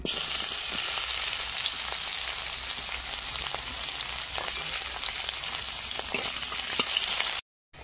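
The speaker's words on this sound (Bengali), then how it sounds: "তেল গরম হয়ে গেছে, পেঁয়াজ কুচি দিয়ে দেবো।" Chopped onion frying in hot mustard oil in a kadai, a loud, dense, continuous sizzle close up with faint clatter underneath, ending abruptly.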